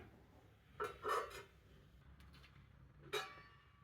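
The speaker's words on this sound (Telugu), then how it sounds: "మూత పెట్టేస్తున్నాను" A metal lid clinks onto a cooking pot holding cooling coconut-milk dough, with a couple of close rattling contacts followed by a single sharper clink a moment later, in a quiet kitchen.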